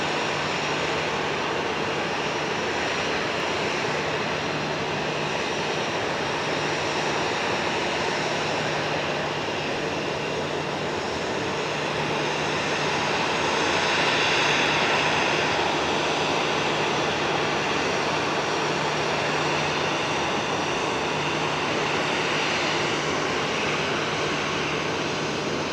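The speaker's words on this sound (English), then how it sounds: "EgyptAir 737 from Cairo." An EgyptAir Boeing 737 from Cairo arrives at Geneva Airport with a broad, sustained jet roar. The roar swells slightly midway and holds a low steady hum underneath for the whole stretch, with no voices.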